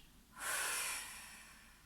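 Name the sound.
breathing out through the mouth during yoga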